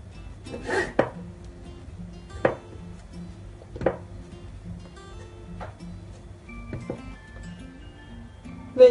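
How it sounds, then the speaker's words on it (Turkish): A knife slices through rolled puff pastry on a board for a syrup-soaked baklava-style dessert, several distinct close cutting thuds spaced a second or more apart over a quiet background. "Milföyümüzü bu şekilde kıvırdıktan sonra kesiyoruz arkadaşlar."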